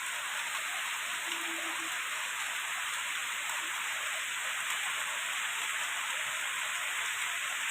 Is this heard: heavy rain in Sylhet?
yes